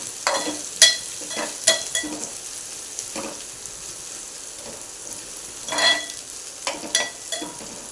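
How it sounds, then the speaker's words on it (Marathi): Onion frying in oil until golden, a steady close sizzle with repeated sharp scrapes and clinks of a spoon stirring through the pan, no voices. "कांदा हे छान असं गोल्डन कलर व्यवस्थित भाजून घेऊया होऊ द्या कांदा"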